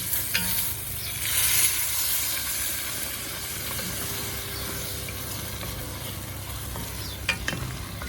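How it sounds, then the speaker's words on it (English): Tomato and onion sauce hitting hot roasting chiles in a pan, a sustained broad sizzle and hiss, fairly faint and even, with a few small clinks near the end and no voices. "right away, before this gets burned, we're going to add the tomato and onion sauce"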